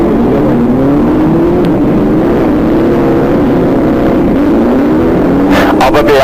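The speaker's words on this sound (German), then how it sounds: "Hier die Nummer 29 im verbauten Lauf, Werner Maas auf seinem BMW Eigenbau." A homebuilt BMW race car, number 29 in a race heat, drones with a continuous engine note that rises and falls as it runs, with someone commentating over the sound throughout.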